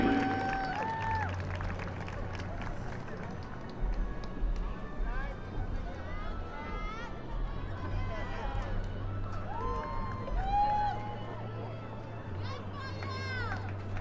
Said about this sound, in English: Please give the 2018 queen and king a round of applause.